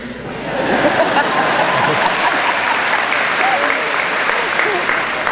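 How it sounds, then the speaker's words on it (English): At a Rockville High School class of 2008 graduation, a crowd breaks into loud, dense applause that swells quickly and holds steady, with some laughter and chatter in the mix. "I would appreciate a round of applause after everything I say."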